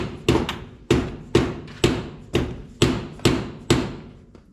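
Eight heavy hammer blows land in a steady rhythm, each a loud close thud that rings briefly, during a V8 swap into a Ford Falcon in a garage, with no talk over them.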